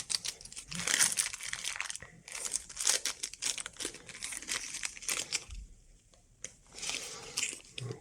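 A NaI(Tl) scintillation crystal is unwrapped from a sealed plastic bag and paper wrapping. Loud, close crinkling and rustling of plastic and paper comes in bursts with short pauses.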